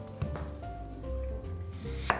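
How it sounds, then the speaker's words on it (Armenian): A knife chops an onion on a board, giving a few soft, quiet cuts at close range, with a sharper knock near the end. "Եվ կտրատում ենք գլուխ սոխը"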